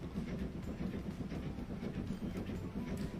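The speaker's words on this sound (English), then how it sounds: "We have our fabulous new train coming into Clifton Down." A train rolls steadily into Clifton Down station in the railway simulation game Transport Fever 2, a continuous low rumble with faint wheel clatter, moderately loud and alone.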